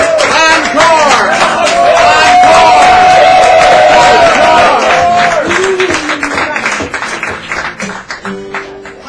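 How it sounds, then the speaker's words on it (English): An open-mic audience at a San Francisco cafe bursts into loud, sustained cheering, whooping and clapping, with one voice holding a long shout; the crowd noise thins into scattered applause and chatter toward the end. "let's have a round of applause and an encore for Maria Mendel."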